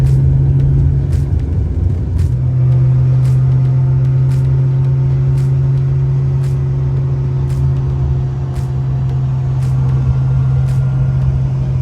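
A Porsche engine under turbo boost, a loud steady drone with a strong low hum that holds throughout, close and continuous, with rhythmic ticks overhead and no talking.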